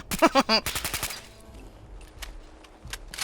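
Rapid AK rifle bursts in Fallout 4's Nuka World, a quick string of loud cracking shots at the start, then scattered fainter reports trailing off, with voices mixed in.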